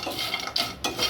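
Steady dry rattling and scraping as peanuts are stirred and roasted in a pan, a continuous close-up clatter with a couple of sharper scrapes.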